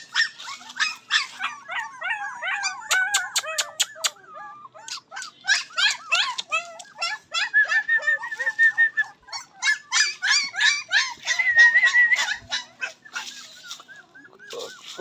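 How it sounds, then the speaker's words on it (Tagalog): Small dogs yip and bark in rapid, high-pitched bursts close by, a restless string of squeaky cries and whines that continues throughout with brief pauses and no talking. "ang ato aso, napakakulit"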